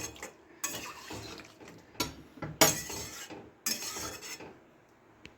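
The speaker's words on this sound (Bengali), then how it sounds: "ভালো করে নেড়ে দেবো।" Spices cook down with a splash of water in a pan for a Bengali pumpkin, potato and pointed gourd chokka. A spatula stirs them in several distinct scraping strokes with faint metallic clinks between, close and alone without talk.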